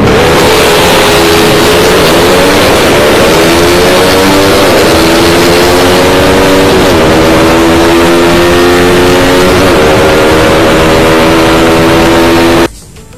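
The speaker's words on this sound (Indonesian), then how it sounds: "Kita gas gigi 1, 2 ya, kalau syukur-syukur masuk 3 gitu." A Suzuki Satria FU motorcycle with a PE 28 carburetor roars continuously, revving up through several gear changes with rising and dropping pitch, loud and close, cutting off abruptly at the end.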